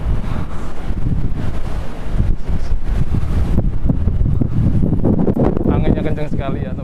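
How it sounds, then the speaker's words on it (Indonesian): Strong, steady wind buffets the microphone on a ship deck over a broad rushing roar, with water and engine noise beneath and a brighter hiss building near the end. "anginnya kencang sekali ya teman-teman."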